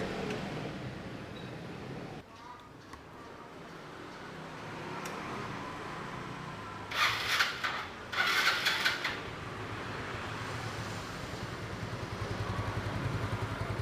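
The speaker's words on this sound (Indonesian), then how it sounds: "ini untuk Mio tahun 2010 sih mesinnya masih halus banget sih suaranya" A 2010 Yamaha Mio scooter engine, rebuilt after its first teardown in ten years, idles quietly and smoothly with a low steady hum, interrupted midway by two brief bursts of louder mechanical clatter.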